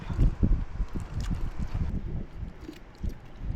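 Steady blustery seaside wind buffeting the microphone outdoors, a low constant rumble with gusts, fairly loud throughout with no talking.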